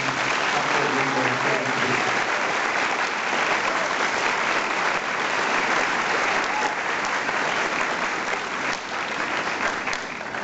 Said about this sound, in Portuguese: eu peço à comunidade uma salva de palmas para Marina